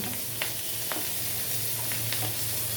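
Chopped onion and green chilli frying with a hilsa fish head, a continuous close crackling sizzle with a low steady bubbling undertone and a few light stirring taps.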